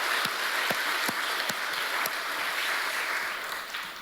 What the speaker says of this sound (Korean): 우리 박수로 한번 격려하시죠.